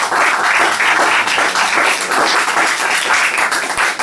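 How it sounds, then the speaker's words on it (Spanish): Audience applause fills a hall at a Spanish-language book presentation, steady dense clapping sustained throughout at close range with no speech over it. "Y para todos los demás, el mismo aplauso."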